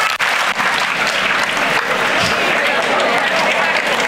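Audience applause at a student induction program, with a large group clapping together in a clapping game, a dense steady wash of clapping that holds for about four seconds, with voices mixed in.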